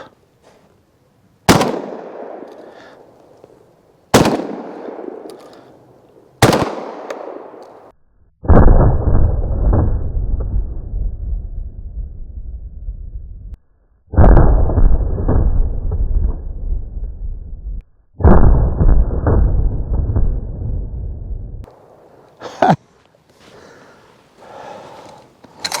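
An Armsan Paragon 12-gauge gas-operated semi-automatic shotgun fires at a target outdoors: three loud, sharp, close blasts a few seconds apart, then stretches of steady noise, and later a couple more shots.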